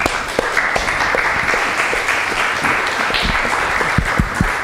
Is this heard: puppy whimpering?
no